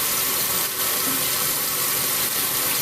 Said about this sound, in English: we're going to turn the water on, and we're going to get the hottest water I can stand